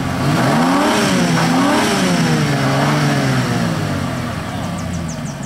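A 1988 Mercury Grand Marquis V8 revs loudly and steadily, its engine pitch rising and falling in sweeping waves, with no talk over it.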